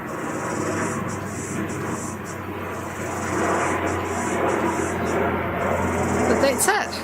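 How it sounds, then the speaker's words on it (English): A fixed-wing airplane passes overhead as a broad, steady rumbling drone that swells slightly toward the end, heard as a continuous background wash beneath an indoor crochet lesson. "Excuse that plane flying over."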